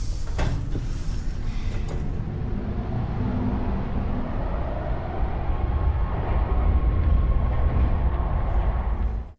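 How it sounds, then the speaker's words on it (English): A subway car departs in the Resident Evil video game, a loud rumbling rail roar with clanking and door-like thuds at the start, building steadily before cutting off at the end. "Jill boards the departing subway car"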